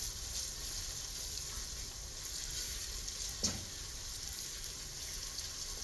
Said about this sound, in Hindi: अब हम इसमें ऐड करेंगे लहसुन अदरक का पेस्ट और इसे अच्छी सी खुशबू आने तक फ्राई कर लेंगे